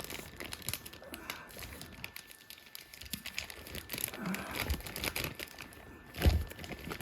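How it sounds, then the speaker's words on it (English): Parcel packaging being torn open to reach a 1986 Transformers annual, a steady close crinkling and ripping of paper and plastic, with a sharper tearing burst near the end. "I think I may have to rip the rest of it open."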